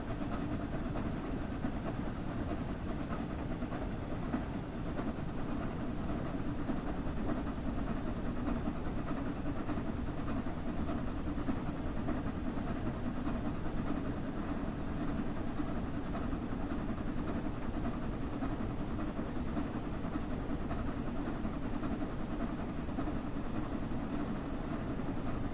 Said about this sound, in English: This locomotive was originally built in 1923 as one of Sir Nigel Resley's new A1